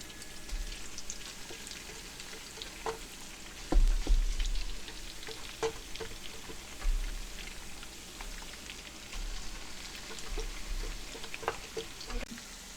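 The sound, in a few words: blended tomatoes added to frying onions in palm oil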